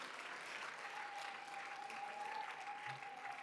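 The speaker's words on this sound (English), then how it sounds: "A warm round of applause for her and our panelists" A warm round of applause for a facilitator and panelists at a South African colloquium, steady faint clapping from a seated audience over a few seconds with a faint tone running beneath.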